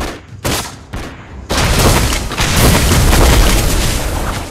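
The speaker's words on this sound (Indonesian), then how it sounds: "Our turret has been destroyed." A turret is destroyed in Mobile Legends with a loud booming explosion. Two short sharp blasts come first, then a sustained rumbling roar of detonations that fills the scene.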